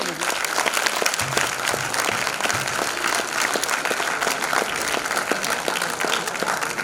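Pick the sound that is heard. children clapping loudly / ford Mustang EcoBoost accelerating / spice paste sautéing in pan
children clapping loudly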